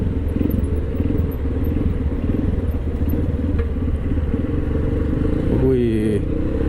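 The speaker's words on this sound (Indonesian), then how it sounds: "Jadi ada motor nggak kuat di sini" Motorcycle engine rumbles steadily while descending the steep sandy slope from Bromo toward the sea of sand, with clattering underneath and a person talking over it.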